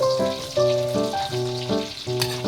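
Chopped garlic frying in hot oil gives a steady crackling sizzle, partly masked by tonal background music playing over it, with no one talking.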